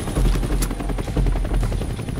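Helicopter in the video game Wolverine Origins, a loud, continuous rotor thump and engine roar filling the whole moment, steady and close with no talk.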